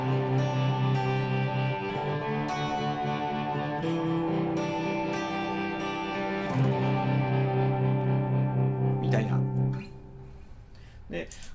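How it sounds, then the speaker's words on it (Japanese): A Fender Japan Michiya Haruhata model electric guitar with humbucker-single-humbucker pickups plays a crunchy tone with tremolo, sustained chords pulsing steadily for about ten seconds before fading into quieter noise. "例えばこうトレモロとかをオンにしてみても、 こういう時にすごくまあ有効なのかなと思います。"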